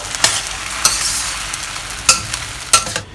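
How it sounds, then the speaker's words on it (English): Mee Tai Bak noodles fry in oil in a heated clay pot, giving a steady sizzling hiss broken by a few sharp scraping stirs, close and moderately loud. "Once you have heated up your clay pot, put in some oil and transfer the Mee Tai Bak into here."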